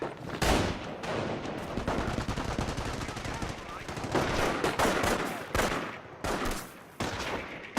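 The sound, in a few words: machine gun fire in Company of Heroes video game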